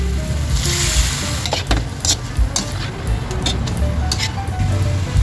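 Chicken pieces for chicken afritada, added to a pan with tomatoes, sizzling loudly and steadily, with a few sharp clinks of a utensil against the pan.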